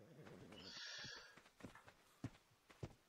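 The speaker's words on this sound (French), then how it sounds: "C'est le cheval." A horse in the video game ARK on the Valguero map whinnies loudly near the start, followed by a few spaced clip-clop hoof steps; someone speaks briefly over it.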